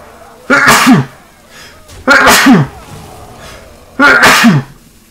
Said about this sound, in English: The Nazormu dust is making me sneeze